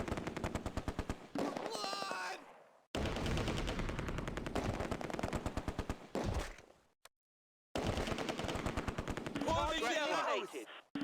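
Bursts of machine gun fire in the Close Combat A Bridge Too Far video game, near Oosterbeek, come as loud rapid volleys separated by brief silences.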